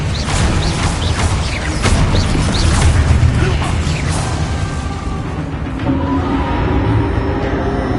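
Spells cast in the Hogwarts Legacy video game set off a dense, loud wash of booming blasts, crashes and mechanical bursts that keeps going with no pause, without any voice.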